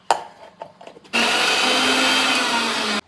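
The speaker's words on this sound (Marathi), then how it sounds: "आणि मिक्सरला लावून घेते" A kitchen mixer grinder blends green chillies and coriander with a little water into chutney, starting abruptly after a few light clinks and then running as a loud, steady whirring roar for about two seconds before cutting off.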